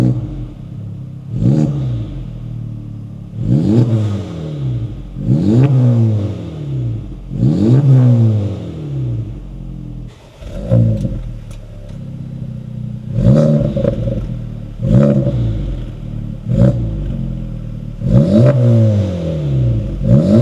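An idling 2024 Acura Integra Type S with stock exhaust is revved repeatedly, about eight sharp climbs and drops in pitch, loud and close with a raspy exhaust tone.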